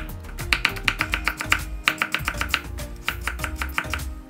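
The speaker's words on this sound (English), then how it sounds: "If you have carrots, slice them thinly and chop them." A knife slices and chops carrots on a cutting board in a quick series of crisp, evenly spaced taps, close and clear, with short pauses between runs of strokes.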